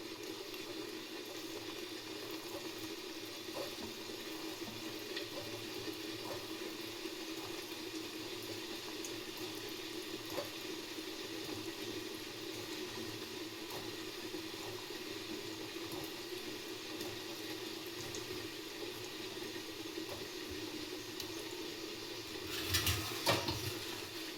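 Gulab jamun dough balls fry slowly in oil over a low flame, giving a faint, steady sizzle that stays even throughout, with a slightly louder clatter near the end.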